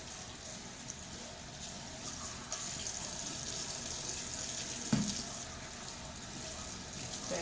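Water runs steadily from a kitchen sink tap onto gloves being washed, a continuous close hiss with a brief knock midway and no talking.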